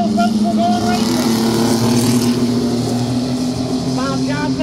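Mini truck race engines roar together at a speedway heat race, a loud steady drone with shifting revving tones, while an announcer talks over the racket.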